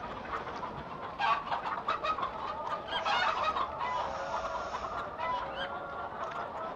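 A flock of chickens in the farming game Norgeholm clucks and squawks continuously while boarding a trailer, busy overlapping calls at moderate distance, with a few sharper bursts.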